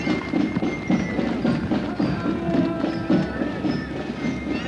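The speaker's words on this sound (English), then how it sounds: "Something so majestic about a person riding a horse" A ridden horse's hooves clop in an uneven rhythm on a hard surface at a Santa Claus parade in Oakville, mixed with crowd murmur and outdoor bustle, fairly close.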